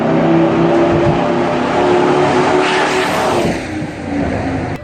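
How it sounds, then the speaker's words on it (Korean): A Ford Excursion SUV with a 6.8L V10 engine drives by, its deep, continuous engine rumble loud and close throughout, swelling and shifting slightly as it moves past. "와, 포드 익스커션."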